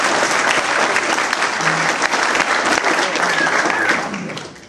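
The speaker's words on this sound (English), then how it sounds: "And I think that deserves a round of applause." Steady, dense applause from an audience at a high school track and field captains' speeches event, clapping continuously and loudly before tapering off at the end.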